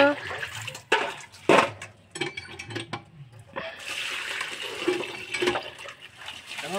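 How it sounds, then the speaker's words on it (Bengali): Raw meat being washed for biryani, with water splashing and pouring in uneven bursts and a steadier rush of running water later, close by and with voices talking over it. "নিচে আমার বড়মশাই এখন ধুচ্ছে মাংস, তোমরা দেখতে পাচ্ছ।"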